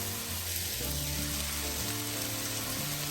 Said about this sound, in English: My onions have been cooking on a high heat without any oil, and I've been stirring frequently